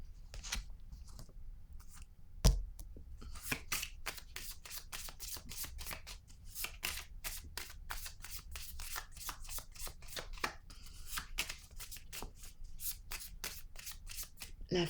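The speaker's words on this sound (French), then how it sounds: "Je vais piger une autre carte ici." A tarot deck is handled as a card is drawn, with a quick run of soft, closely spaced card flicks and riffles, faint and close by, with no talk.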